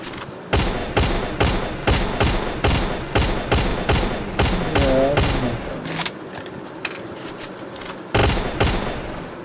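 Rapid bursts of gunfire in the Free Fire battle royale game, loud repeated volleys of automatic shots with brief pauses, a few heavier thumps among them and no talk.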